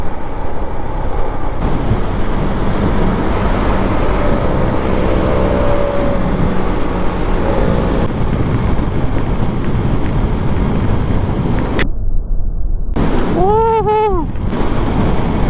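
Loud, constant buffeting roar of wind blasting past a motorcycle at highway speed, dense and unbroken, with a brief dropout near the end.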